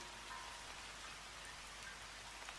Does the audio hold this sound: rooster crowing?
no